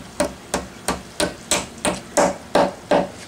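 A hammer striking a nail eight times in a steady rhythm, each blow a sharp close knock with a short ring, no voices.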